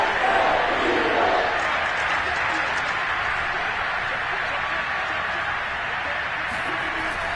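A packed football stadium crowd cheers in a steady, broad roar ahead of a big third down, continuous and loud, with a voice speaking over it.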